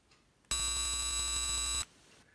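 A Zippo electric arc lighter gives a loud, steady, high-pitched buzzing whine that starts abruptly, holds for just over a second, then cuts off into near silence.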